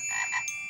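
A cartoon frog in the Curious George Ribbit video game gives a short, bright croak, a quick musical ribbit heard alone.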